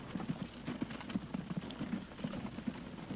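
Horse-drawn vehicle hooves clip-clopping in the Transport Fever railway-era game, a steady, fairly quiet rhythmic trot of hoof strikes continuing throughout.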